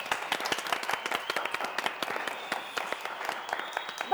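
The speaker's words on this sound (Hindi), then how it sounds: "सब लोग ताली बजाओ ना।" A small audience claps steadily and crisply for several seconds, the sharp, dense hand claps filling the room at moderate volume with no talking over them.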